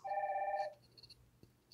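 Incoming-call ringtone on a Wildix WP410 desk phone: a single steady electronic ring tone for under a second that cuts off abruptly, followed by faint beeps and quiet room sound.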